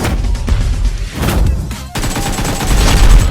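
AK assault rifle firing in PUBG Mobile, loud rapid bursts of automatic gunfire with a brief break partway through before the shooting resumes louder, close and forceful.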